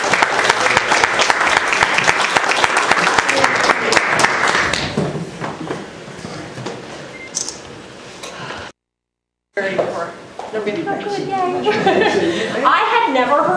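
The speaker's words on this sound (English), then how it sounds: "Let's give her a round of applause." Town hall audience at a health care event clapping to welcome a guest, loud sustained applause for several seconds that fades out, followed after a short break by someone speaking with some light chuckles.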